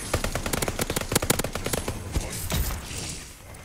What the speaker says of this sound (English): New LMG has almost no kick.